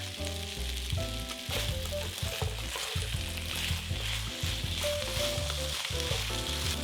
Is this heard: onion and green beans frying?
yes